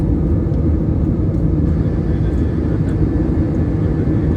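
Constant, heavy rumble of an Airbus A320 flying through clouds, a deep even engine drone holding steady throughout.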